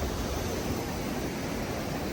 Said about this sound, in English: you can hear the waterfall for sure